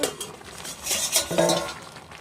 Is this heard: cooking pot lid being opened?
yes